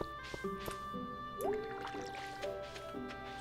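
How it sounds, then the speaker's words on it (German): Watering crops with a watering can in the farming game Stardew Valley, soft squishy dripping and pouring splashes set against a bed of steady tonal game music. "Also wir gießen es auf jeden Fall schon mal vorsorglich."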